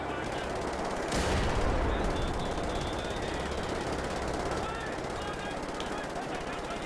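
Sustained gunfire aimed at the player in Wolfenstein: The New Order, a loud, dense fusillade of rapid shots running without a break, with game noise layered over it.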